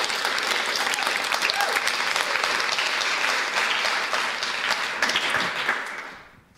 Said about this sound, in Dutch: Geef haar een hartelijk applaus.